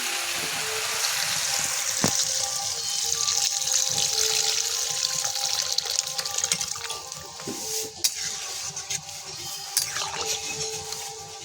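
Water is poured into a pan of jackfruit curry, a steady close splashing and hissing that continues evenly for several seconds with a few small knocks.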